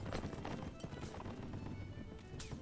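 Cavalry horses charge across the battlefield in the L'aigle strategy game, with a dense, continuous drum of hooves and a scattering of whinnies over rumbling battle ambience. No one speaks.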